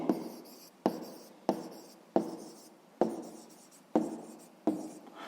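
Pen or pencil writing by hand on paper while working a sixth-grade maths exercise: seven evenly spaced strokes, each a sharp scratch that fades, close and fairly quiet, with no talking.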